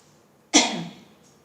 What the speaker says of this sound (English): I've coughed a couple times today